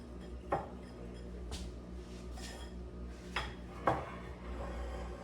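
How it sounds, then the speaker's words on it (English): Pumpkin muffin ingredients being mixed in a bowl, with a few scattered clinks and scrapes of a utensil against the dish over a quiet kitchen background. "Now we're going to mix this together."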